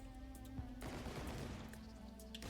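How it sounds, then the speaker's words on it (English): Rapid-fire barrage of gunshots from a character's weapon in the video game Risk of Rain 2, a dense run of quick bursts filling the whole stretch at steady loudness alongside game effects. "R1 is a rapid fire barrage that appears to stun enemies"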